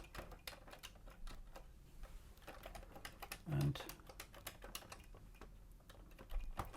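Fingers tap keys on a Commodore 64 keyboard under test, sounding as irregular near clicks with one heavier thump midway and a brief spoken word.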